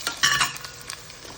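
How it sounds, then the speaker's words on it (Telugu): A tempering of mustard seeds, dried red chillies, cumin, ajwain and curry leaves frying in hot oil gives a brief close crackle and sizzle with a few stirring scrapes. "మొత్తం పోపు వేగిపోయిందండి."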